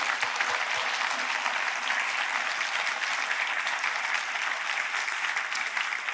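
A church congregation applauds at a worship service, steady broadband clapping sustained for several seconds at even loudness, with no voices over it.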